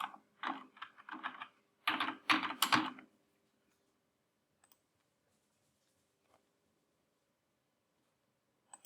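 Quick bursts of keystrokes on a computer keyboard as a username and password are entered, close and crisp for about three seconds, followed by near silence with a couple of faint clicks.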